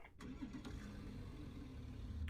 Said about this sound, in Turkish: Böyle ben bir aracı tekrar bir çalıştırayım.